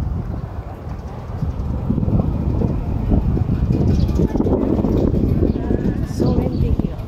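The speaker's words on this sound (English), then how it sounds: "So windy here." Gusty wind blows across a beach with big waves during a stopover in Indonesia, a steady rushing roar that builds and holds loud over the microphone, with no clear talk.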